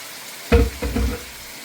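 A spoon makes two quick, close scraping strokes as tomato puree is stirred into a fish curry in a pan, with a soft sizzle under the strokes and no voices.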